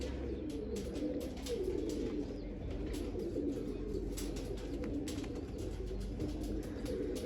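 Pigeons coo in low, soft, repeated murmurs against a steady background, close by and fairly quiet, with no talking.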